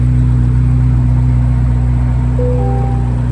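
A 2024 Corvette Z06 convertible idles while parked, its engine giving a steady, loud low rumble with constant hum throughout and a brief higher whine near the end as the roof mechanism begins.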